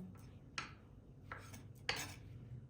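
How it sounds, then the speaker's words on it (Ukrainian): A knife chops sausage into small bar-shaped pieces, giving three sharp, separate taps against a board, close and fairly quiet with soft background noise in between. "Ріжемо її ми ось так, такими шматочками, брусочками"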